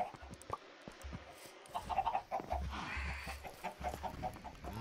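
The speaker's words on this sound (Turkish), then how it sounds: "Tavuklar da her tarafa yumurtlamış." Minecraft chickens cluck in short, soft bursts amid low game sounds, quiet and scattered with no talking.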